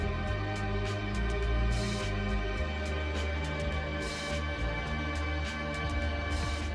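A simple, calming instrumental song plays steadily with sustained tones and a soft pulsing low end, light percussive ticks recurring throughout, no voices.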